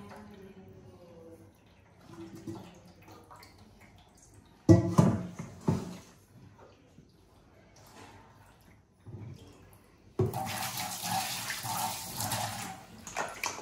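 Tap water runs in short bursts and then a longer steady stream as raw chicken is rinsed in a village kitchen, fairly quiet and near, with handling noises between the flows.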